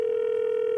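A telephone dial tone hums as a single steady, unbroken pitch while a call is being placed, clear and constant for under a second with no voices.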